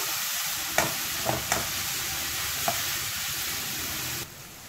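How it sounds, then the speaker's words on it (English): Onions sautéing with ginger and garlic cloves in a pan for Punjabi chole masala give off a steady, fairly quiet sizzle, with a few sharp stirring clinks scattered through it. "4 garlic cloves along with the onions. Let it saute until light brown."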